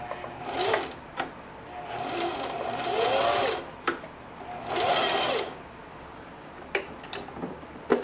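A sewing machine stitches denim in short runs forward and backward, each burst of rapid needle whir separated by pauses and sharp clicks, heard close and fairly quiet.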